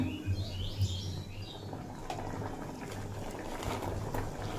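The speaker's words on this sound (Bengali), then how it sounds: "দেখুন ঝোলটা ফুটে উঠেছে" Vegetable broth boils in a pot with a steady, close bubbling hiss, and faint high chirps sound in the background.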